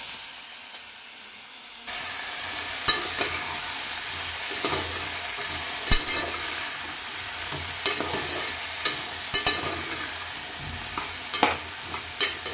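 Potato pieces tossed into hot oil with turmeric, bursting into a loud, steady sizzle with occasional stirring clinks and scrapes, no one speaking.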